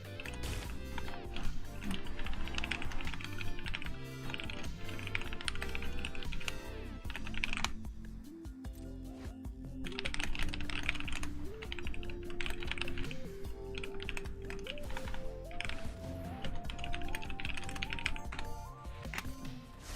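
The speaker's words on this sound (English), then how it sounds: "Sorry, by the way, that if you see me typing" Rapid clicking of a computer keyboard being typed on, bursts of key taps in uneven runs with short pauses, mixed under background game music and sound.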